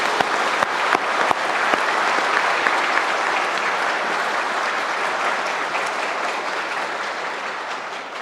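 A large crowd at a North Korean Defectors' Day ceremony applauds steadily, dense clapping that starts with a few sharp claps and holds at full strength throughout.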